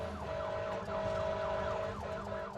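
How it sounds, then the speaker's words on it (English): A fire truck's wailing emergency siren cycles up and down steadily over loud engine and road rumble as it speeds, close and continuous throughout. "riding in a fire truck going at breakneck speed with all the sirens wailing at full"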